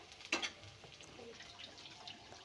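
Chopped garlic, onion and two green chillies with cumin frying in a pan, a faint, steady sizzle with one brief clatter near the start, heard close but quiet.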